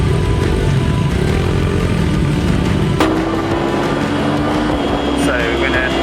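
A 125cc flat track motorcycle engine buzzes loudly and close throughout, holding a steady high drone with a rising pitch sweep midway, while a voice talks over it.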